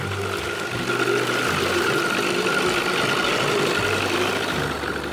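A 60/40 jet outboard on a jon boat running on the Bow River on an early spring day, a loud steady low engine drone with a pulsing rumble, continuous and close with no talk.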